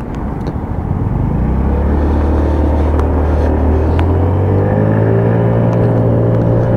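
Lexmoto Echo 50cc motorbike riding along, its small engine holding a steady, loud drone with rising harmonic tones as it picks up speed, accompanied by wind rumble and no talking.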